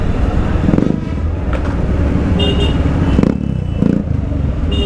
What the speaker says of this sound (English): So you get to hear how a Dominar would sound with some cheap aftermarket